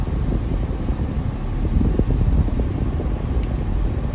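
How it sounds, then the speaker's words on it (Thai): A 1995 Toyota Corona with a 1.6 engine runs its air conditioning fan, which blows steadily as a continuous, even rush of air close by. "ปรับแอร์ได้ปกตินะครับพัดลมแอร์นะครับ"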